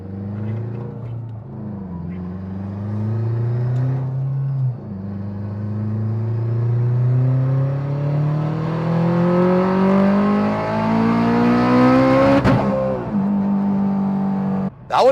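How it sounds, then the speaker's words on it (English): A turbocharged 8th-gen Honda Civic with a K20 engine pulls hard in third gear, its exhaust note climbing steadily in pitch to redline before a sharp cut, loud and close throughout. "Third gear pull. Full beans all the way to redline."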